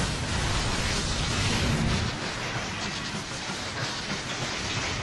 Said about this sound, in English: Moving train.